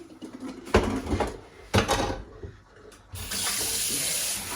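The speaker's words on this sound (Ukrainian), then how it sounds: "обдаємо холодною водою." Cold tap water runs and splashes over a boiled egg in a sink, starting and stopping with brief clatters, then flowing steadily at the end.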